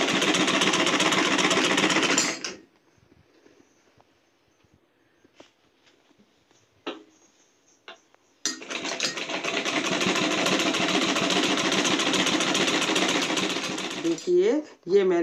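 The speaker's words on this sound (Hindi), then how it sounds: "अब उसको हम जो है इस तरह से सिलाई लगा देंगे।" An electric sewing machine stitching a quilt cover runs in a steady rapid whir, stops for several seconds of near silence with faint clicks, then starts again and runs on, close and loud.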